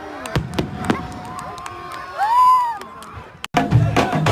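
Fireworks at a World Cup celebration: sharp bangs and crackles pop out over a busy crowd, with a rising whistle near the middle and a burst of noisy bangs toward the end.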